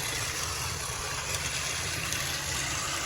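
A Thomas Trackmaster toy train engine running on its plastic track, giving a steady, faint motor whir with light rattling and no pauses over a few seconds.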